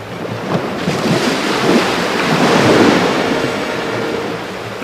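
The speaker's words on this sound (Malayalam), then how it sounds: "ഈ കടപ്പുറത്ത് തിരമാലകൾ കാണാനാണോ എന്നെ വിളിച്ചത്?" Ocean waves wash onto a beach in a low, swelling roar, with wind buffeting the microphone throughout and no voices.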